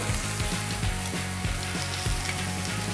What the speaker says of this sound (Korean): 닭가슴살은 겉이 노릇노릇해지고 바삭해질 때까지 중불에서 구워주시면 됩니다